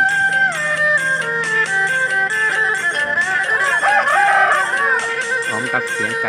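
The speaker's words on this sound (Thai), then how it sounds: "พร้อมกับเสียงไก่ขัน" A rooster crows repeatedly and loudly up close, its drawn-out cock-a-doodle-doo calls layered over one another with clucking fowl mixed in, and nobody speaking.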